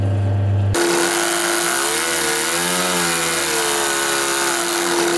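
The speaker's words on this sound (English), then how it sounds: "I'm now going to make a start sewing on the piping edge to the edge banding." A sewing machine stitches a piping edge onto the edge banding of a footstool seat, its motor starting after a short pause and then running as a steady, close, continuous whirring hum.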